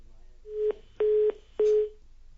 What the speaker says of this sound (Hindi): फोन लाइन डिस्कनेक्ट हो गई आपकी